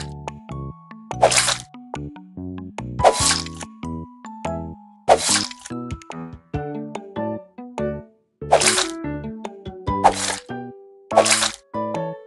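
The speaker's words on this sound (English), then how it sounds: "Let's cut the ingredients, but be careful of your fingers." Cartoonish chopping effects from a Dr. Panda kids' cooking game as eggplant, broccoli and bell pepper are cut for a pizza: five crisp slicing crunches spaced a couple of seconds apart over a bouncy, plinking game melody.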